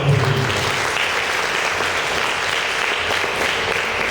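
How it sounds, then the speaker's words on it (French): A crowd at a school excellence awards ceremony in Sokone, Senegal, applauds in a loud, dense, sustained burst of clapping with no voices. "Je vous demande de l'applaudir."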